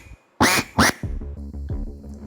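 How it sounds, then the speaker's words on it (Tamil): A duck quacking: two loud, sharp quacks up close, followed by a run of lower, softer quacks that trail off. "வாத்து."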